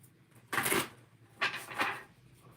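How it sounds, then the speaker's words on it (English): Tarot cards being shuffled by hand: two short papery riffling bursts, close and fairly quiet, with no voices. "Let's do one more shuffle here."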